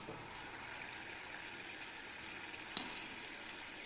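Poha cashew murukku frying in hot oil gives a steady, quiet sizzle with a single brief tap partway through and no voices.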